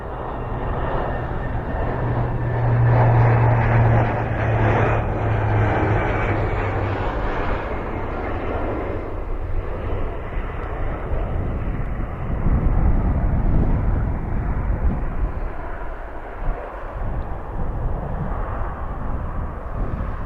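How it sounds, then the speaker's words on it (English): Fixed-wing aircraft flying the airport circuit toward evening, a steady engine drone that swells louder early and then holds as a continuous moderate rumble with some wind noise. "we're going to bring you an aircraft right now. It's staying in the circuit as the sun starts to get lower"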